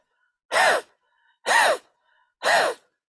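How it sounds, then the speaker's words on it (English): Breath of fire done through an open mouth with the tongue out, panting like a dog: three loud, breathy huffs evenly spaced about a second apart, close up with silence between. "that you place your tongue out and that you pant like a dog"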